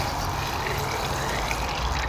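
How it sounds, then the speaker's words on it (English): A watering can fills with water for dry-season tree watering, a steady, loud, close rush of pouring water with no pauses and no talk. "fill it full of water"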